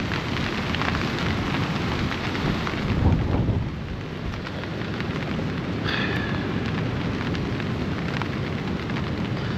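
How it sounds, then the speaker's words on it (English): Strong wind and rain batter a tarp and bivvy camp in a constant loud roar, with a heavier gust swelling partway through and no voices. "You can hear the wind and the rain."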